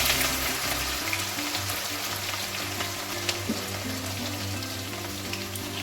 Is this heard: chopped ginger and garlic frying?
yes